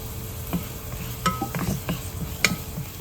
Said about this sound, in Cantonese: 我而家用少少嗰啲葱咧起個鑊